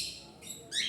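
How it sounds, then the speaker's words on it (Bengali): Caged cockatiels, an adult pair with a pair of chicks, giving bright chirps and calls in quick succession, close and fairly loud over a short moment. "এখানে ককাটেল পাখি রয়েছে,"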